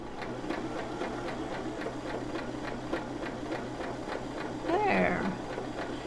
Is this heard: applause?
no